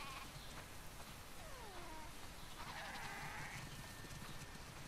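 Sheep bleat in the video game The Last of Us Part II, several wavering calls of varying pitch rising over a soft, steady ambient farm background.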